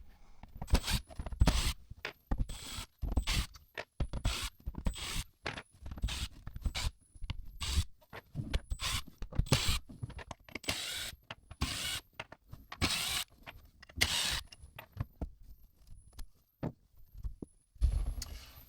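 Screws being removed from the plastic dome interior of a Polaris Xpedition, heard as a rapid series of close, dry ratcheting clicks and scrapes in short bursts with brief pauses, no talking.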